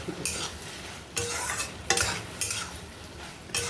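Okra curry being stirred in a pan after onion is added on top, with a soft scraping and light sizzle interrupted by several sharper utensil scrapes against the pan, close and fairly quiet.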